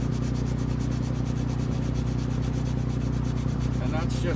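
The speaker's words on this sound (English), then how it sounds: "So I just rough up the surface with some sandpaper." Sandpaper roughs up the rubbery surface of a leaking inflatable dinghy before gluing, a steady, rapid back-and-forth scratching rub held close and continuous throughout.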